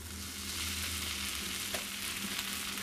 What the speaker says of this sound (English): Put in the bread with the butter down.